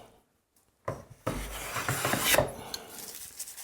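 A hand plane rasps along the top edge of a wooden board being thicknessed by hand, a close, sharp shaving stroke lasting about a second after a short quiet lead-in.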